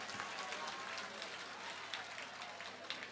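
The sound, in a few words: crowd applauding loudly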